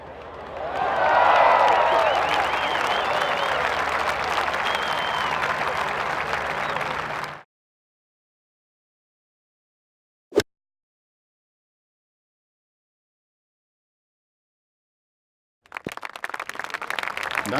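Virtual golf crowd applauding a tee shot in a PGA Tour video game, a loud burst of clapping and cheering for several seconds before cutting to silence, then a brief click and fresh crowd noise near the end.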